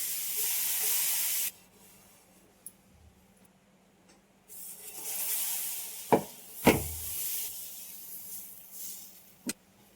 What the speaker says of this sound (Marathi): हा तवा घेतलाय मी, यावरती ना तेल लावायची गरज नाही, फक्त पाणी असं शिंपडून पुसून काढायचं